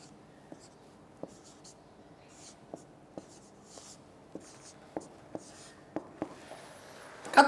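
A marker or chalk taps and strokes on a board during a lecture, producing a series of light, intermittent clicks, faint and close, with quiet talk underneath.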